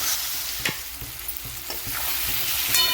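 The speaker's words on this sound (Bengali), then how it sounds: "এবার এটাকে খুব ভালো করে কষিয়ে নিতে হবে।" Spice masala being stirred and fried in a pan for a raw mango rohu fish curry, continuous sizzling with a steady series of spatula scrapes against the pan, close up, no voices.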